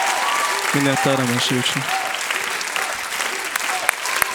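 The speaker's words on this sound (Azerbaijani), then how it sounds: "Gürültülü alqışlarla yola salırıq və bol uğurlar arzusundayıq." At a televised singing competition, the crowd applauds as a contestant leaves the stage. The clapping is sustained and fairly loud, with a person's voice speaking briefly over it near the start.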